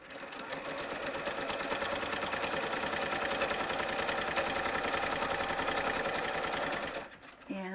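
A sewing machine stitching a seam on shalwar pants for a doll, running continuously with a fast even mechanical rattle close by, then slowing and stopping near the end, with someone talking over it.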